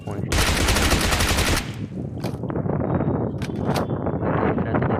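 Sustained automatic gunfire in a battle royale shooting game, a loud continuous burst followed by scattered shots and rustling game ambience at close range.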